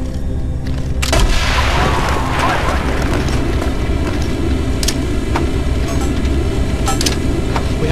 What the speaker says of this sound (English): blow a hole in that fucking wall